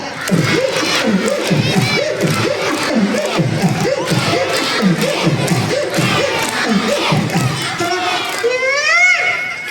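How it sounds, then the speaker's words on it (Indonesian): Children at a Maulid Nabi celebration shout together in loud rhythmic bursts, a dense chorus of young voices with thumps between calls and a few clear shrieks near the end. "boleh tepuk tangan sambil bilang ae 1 2 3"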